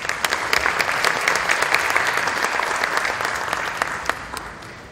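An audience at a conference on the Peruvian hydrocarbons sector claps steadily for several seconds, a dense patter of many hands with a few louder individual claps, then thins out.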